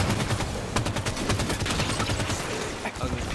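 Rapid gunfire in the Halo 5 video game, dense repeated bursts of shots with overlapping weapons, loud and continuous, with voices talking over the game action.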